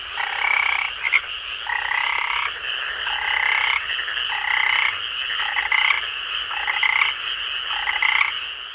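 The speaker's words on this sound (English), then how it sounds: "Frog, croak," A frog croaks in a steady repeating pattern of raspy, pulsed calls, about eight bursts with short gaps between them, loud and close with no voices.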